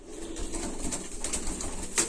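Pigeons coo softly in low, rolling calls amid outdoor background noise, fairly quiet and continuous.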